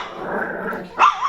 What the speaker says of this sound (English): Notice, like, besides the growling, the occasional whining